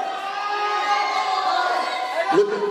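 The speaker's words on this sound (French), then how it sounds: "Faites un peu de bruit, applaudissez Tyrone." A crowd at a live wrestling show in Serifontaine cheers and shouts for a wrestler, a steady roar of voices and noise filling the hall, with a brief louder burst near the end.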